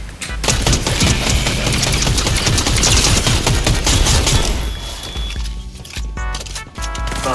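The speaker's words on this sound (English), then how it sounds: "Oh, this shotgun is actually kind of overpowered." Shotgun fire in the video game Fortnite, heard as a rapid burst of loud, dense shots and impacts layered over busy game sound effects and mixed noise, continuous and close, with no clear speech.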